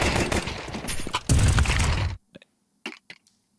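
Gunfire in a professional Counter-Strike esports match at a PGL Cluj-Napoca 2026 group stage game: dense rapid shots for about two seconds, then a few sharp isolated cracks spaced apart in near silence.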